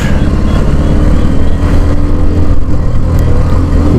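A Hero Xtreme 125R motorcycle accelerates hard on a highway during a speed run, its engine drone loud and steady throughout with no pauses, close to the listener.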